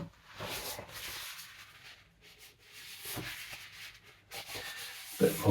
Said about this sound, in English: Bit more rubbing away just there